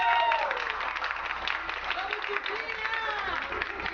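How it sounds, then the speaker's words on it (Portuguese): Party crowd clapping for the guest of honor at a birthday celebration in Ponte Rasa, São Paulo, mixed with music and voices that carry over the applause throughout. "aplausos para a nossa homenageada."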